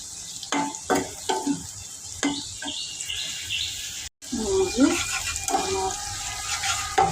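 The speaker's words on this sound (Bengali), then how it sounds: "টমেটো, মলা শুটকি দিয়ে ভাজা হচ্ছে" Tomato and dried mola fish fry in a pan with a steady sizzle, broken by stirring scrapes and a brief cutoff, while a person talks over the cooking.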